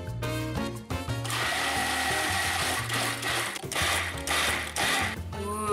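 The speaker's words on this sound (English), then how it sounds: "now I'm gonna put the lid on and just pulse it until it's nice and smooth" Blender pulsing a homemade salsa of cilantro, cumin and salt: loud motor bursts in short repeated pulses, whirring up and cutting off several times with brief pauses between.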